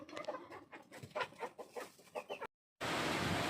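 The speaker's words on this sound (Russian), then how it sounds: "Курочка." Young chickens and hens in a backyard flock cluck softly in a quick, uneven series of close chirpy notes, then a brief gap is followed by loud windy noise.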